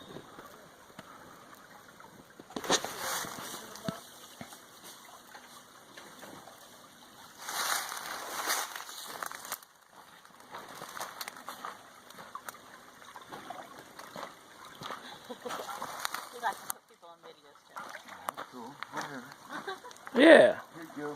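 Creek water trickles and splashes as gold prospectors wade through a stream in an Indiana state forest in March, with bursts of louder sloshing at intervals over a steady background flow.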